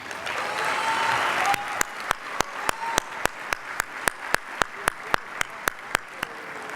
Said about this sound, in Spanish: el doctor César Camacho, para quien pido nuevamente un aplauso